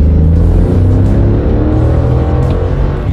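A Mercedes G63 4x4 squared pulls hard up a freeway hill, its engine a loud, close, continuous low drone that climbs steadily in pitch for three seconds with no one speaking.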